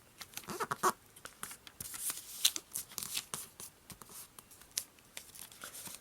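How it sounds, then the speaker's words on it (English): Origami paper being folded into a ninja knife (sai), with a series of quick, dry crinkles and crisp creasing rustles close by, irregular and fairly quiet, no talking. "take this mountain fold here and fold it up to the center crease"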